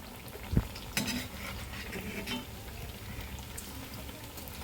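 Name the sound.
urad dal dosa cooking on a pan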